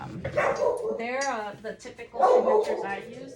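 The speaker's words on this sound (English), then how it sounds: "That's my dog, I apologize." A pet dog barks and yips in a home while a person keeps talking over it, with the barks close and fairly loud and mixed into the speech.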